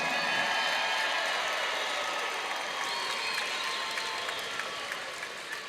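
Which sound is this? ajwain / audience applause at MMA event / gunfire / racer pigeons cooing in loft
audience applause at MMA event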